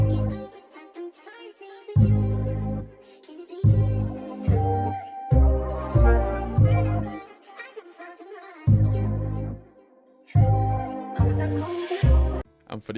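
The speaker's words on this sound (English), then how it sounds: "the last part of the intro for the loop is these vocals from Splice," Sampled vocal chops from Splice form a looped intro, arriving in rhythmic bursts with pauses between phrases, the deep-toned chunks cutting in and out over a steady washy background.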